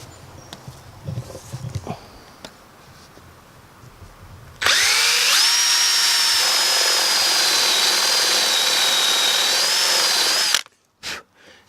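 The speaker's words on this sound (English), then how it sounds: "we're going to first of all use a 25mm spade bit just to give us a countersink on the bolt" A power drill with a 25mm spade bit bores into wood for a bolt countersink during a Mercedes Sprinter bed build, a loud steady whine running about six seconds after quieter handling noises, then stopping abruptly.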